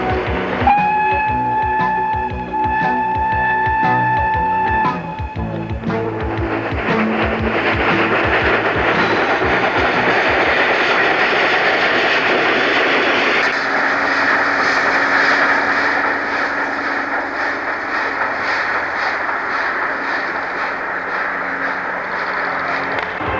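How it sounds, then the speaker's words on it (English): Flying Scotsman and Pendennis Castle, two steam locomotives coupled as a double-header, reversing toward the Perth terminal in Western Australia; whistle blasts at the start give way to a loud, continuous rumble and clatter of the moving engines. "the Flying Scotsman and Pendennis Castle coupled together for the first time and reversing to the Perth terminal"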